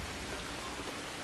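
Rain in the video game Assassin's Creed Shadows, a dense, steady wash of falling rain with no breaks, even and enveloping, fairly quiet, with no talk.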